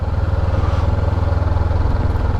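A motorcycle engine revs steadily through a turn, a close, loud, throbbing low rumble with no talk over it.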